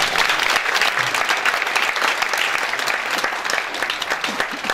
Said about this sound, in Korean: 네, 박수 좀.